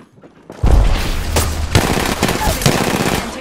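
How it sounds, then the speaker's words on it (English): Video game gunfire erupts suddenly in dense, loud bursts of automatic shots with booming low impacts, continuing without pause to the end. "I'm taking shots. And we're shooting."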